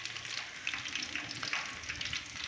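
Pieces of fish frying in hot ghee in a large batch, a steady dense sizzle and crackle running close and continuous with small bursts of spatter, no voices.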